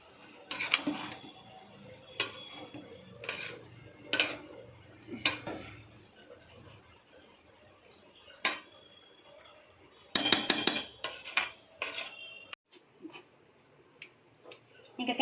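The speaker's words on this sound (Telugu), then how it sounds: "కర్రీ కోసం అయితే టమాటాలు కట్ చేస్తున్నానండి" A knife cutting tomatoes for curry on a kitchen board: sharp, distinct chops and taps come in scattered bursts, some quick runs of cuts, with quiet pauses between.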